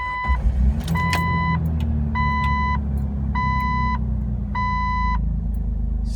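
A car engine idling roughly, a low steady rumble heard up close, with a repeated electronic chime beeping five times in an even rhythm over it.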